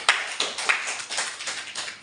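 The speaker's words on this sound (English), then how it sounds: "Give a big applause to Nini." Students in a class applauding a correct answer, with a few sharp claps followed by steady light clapping from a small group, fairly quiet and close, with no talk.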